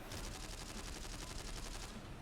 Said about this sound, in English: You can hear a lot of gunfire going off, Abel, in the building that the gym rat ran